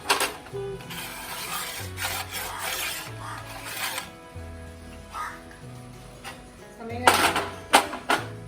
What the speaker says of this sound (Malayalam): ഇനി സ്റ്റൗവൊക്കെ ഒന്ന് ക്ലീൻ ചെയ്യട്ടെ.